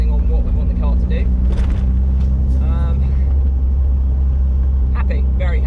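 A Mazda MX-5 fitted with Whiteline anti-roll bars drives along with a steady, loud low engine and road rumble throughout, while someone talks over it from inside the car.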